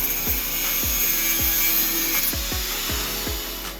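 A hand saw cuts off part of a wooden bracket area on a homemade acoustic panel, with regular back-and-forth strokes sounding roughly every half second, close up under a steady background hum.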